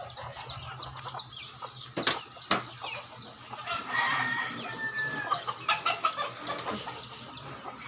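Hybrid chickens clucking close by, with a rooster crowing and wings flapping now and then; busy, uneven bursts of poultry calls outdoors.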